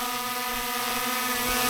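A small drone's propellers give a steady, close, high buzz like a swarm of angry wasps, holding a constant droning pitch throughout.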